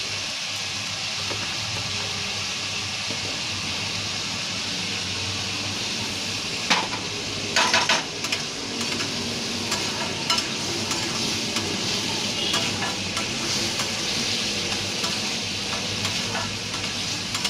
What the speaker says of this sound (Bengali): তেলের মধ্যে সম্বরটা দিয়ে দিলাম